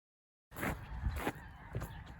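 Snow geese over a hilltop farm field honking in a few short, rough calls, moderately distant and fairly faint, with a brief silence before they begin.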